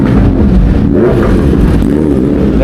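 Royal Enfield Continental GT650 motorcycle fitted with a Red Rooster exhaust, engine running loud and close with a steady deep rumble and slight rising revs as it pulls away.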